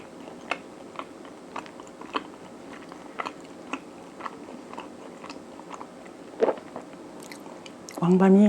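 Someone bites and chews a Gangneung-style songpyeon rice cake filled with a whole chestnut, giving soft, sticky, close-up chewing with occasional small crunches, ending in a louder burst of noise.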